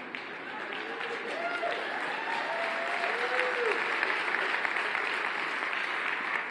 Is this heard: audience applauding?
yes